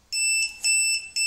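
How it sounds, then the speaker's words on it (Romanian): A microcontroller buzzer sounds Morse code in a Romanian electronics project, giving loud, clean electronic beeps in short and longer bursts separated by brief gaps, close and alone with no talking. "Primul caracter este caracterul care este redat de buzzer și de LED."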